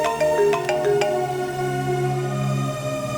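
A phone ringtone chimes in a dubbed South Indian action movie, a quick run of bright tones followed by sustained ringing notes, clear and close with no talking.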